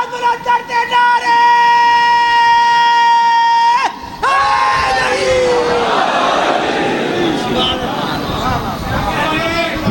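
At a Shia religious majlis in Lahore, a single drawn-out voice calls first, then a loud crowd roars out chanted slogans together in a sustained, dense wave of voices.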